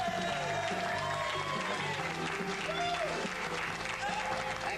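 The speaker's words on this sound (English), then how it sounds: "Give him a big round of applause" A studio audience at a talent show semi-final bursts into sustained applause and cheering for the winner, a dense steady wash of clapping with crowd voices mixed in throughout.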